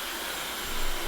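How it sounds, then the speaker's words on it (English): A hairdryer blows straight at a Sennheiser MKE 200 on-camera microphone, making a loud, continuous roaring rush of wind noise that swells slightly at the end. "the wind is now blowing behind me, as you can see, simulated by this hairdryer"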